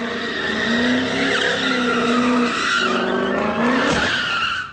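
A Ford Mustang skids with long, loud tire squeals that rise and bend in pitch under engine noise, swelling through the run and ending with a sharp hit near the close as the car crashes.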